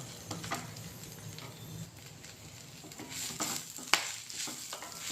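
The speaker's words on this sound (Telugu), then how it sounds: "సిమ్లో బట్టి బాగా వేగనివ్వాలి ఇవన్నీ." Drumstick leaves and dal fry gently on a low flame, with a soft sizzle and occasional quiet stirring scrapes, close but faint, including one sharp click near the end.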